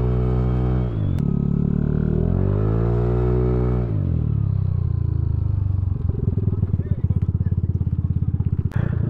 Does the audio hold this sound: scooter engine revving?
yes